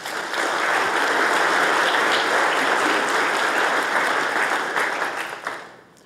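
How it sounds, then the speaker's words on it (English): Conference audience applauding the organisers at a policy conference on Mackinac Island, a dense, loud burst of clapping that rises quickly, holds for several seconds, then fades away at the end. "please give them a round of applause"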